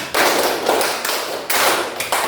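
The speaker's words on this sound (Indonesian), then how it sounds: "kita berikan 1 kali tepuk 5" A class claps the "tepuk 5" rhythm together, sharp close-up group clapping in several quick bursts with brief gaps between them.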